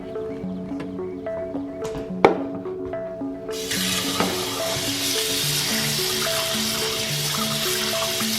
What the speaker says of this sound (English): I'm gonna let this bacon cook while I chop up some vegetables for a salad.